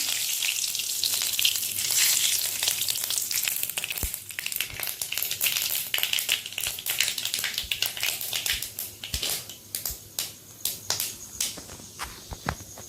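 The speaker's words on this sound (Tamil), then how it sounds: "நம்மளோட எண்ணெய் காஞ்சிருச்சு. ஸோ இப்போ நம்ம கடுகு போட்டுலாம்." Mustard seeds frying in hot oil for chana masala, a steady close sizzle broken by scattered sharp pops and crackles that thin out toward the end, with no talking.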